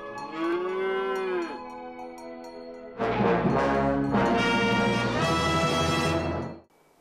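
A cow moos twice, loud and close: a drawn-out low call, then a longer, rougher bellow that breaks off abruptly.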